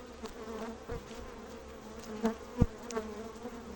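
Honeybees in a hive in late January buzz in a steady, moderately loud drone, with a few brief knocks and bumps standing out over the hum.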